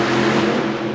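Fat Cat monster truck engine roaring loud and steady through a one-second solo run at a Monster Jam event in San Antonio, a dense continuous blare with no talk.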